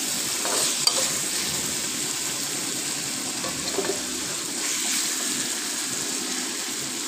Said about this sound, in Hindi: तो चिकन भी अच्छी तरह से इसमें फ्राई हो जाएगा मज़ीद।